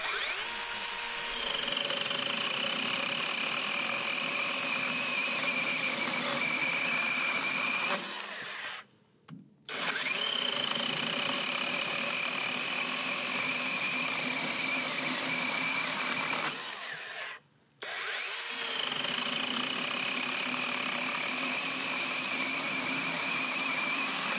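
A DeWalt 20V 8-inch pruning chainsaw fitted with an Oregon chain cuts through a 5.5 to 6 inch limb of tough big leaf maple, a loud steady motor whine under load, with two brief pauses between cuts.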